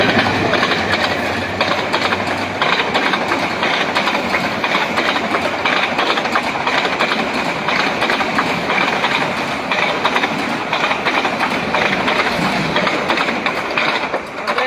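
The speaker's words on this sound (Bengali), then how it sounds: "এই সেই এগারো সিন্দুর এক্সপ্রেস যেটা যাচ্ছে" The Egarosindhur Express train rumbles past close by, loud and continuous, with rhythmic clattering of wheels on rails throughout.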